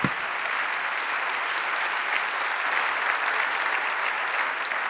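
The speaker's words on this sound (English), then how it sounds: "Let's give a round of applause for Susan" Steady audience applause fills a talk on arts and community health, a dense even wash of many hands clapping at moderate level, continuing without a break and with no voices over it.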